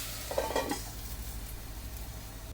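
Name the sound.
stirring sprouted beans and onion stir-fry in a pan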